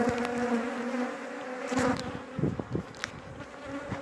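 Dense, steady buzzing of many honey bees packed around an open hive, close and continuous, with a few brief rustles and knocks of hive handling underneath.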